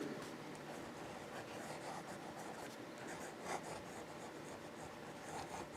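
Fountain Pen Revolution Tanoshii fountain pen with a smooth, wet nib writing on paper: a soft, steady scratchy rustle of the nib moving across the page, close and quiet, continuous strokes with slight pulses.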